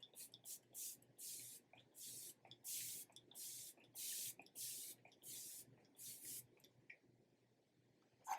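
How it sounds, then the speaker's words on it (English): A Covergirl Plus Olay setting spray bottle pumped about a dozen times in quick, even bursts, each a soft, close hiss of fine mist, followed by a brief quiet pause. "that is a super fine mist, and like it goes all the way down"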